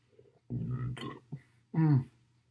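A burp after drinking Cherry Vanilla Coke, a fizzy cherry-flavoured cola, comes as one loud, close, drawn-out belch near the end, after a few short throaty noises.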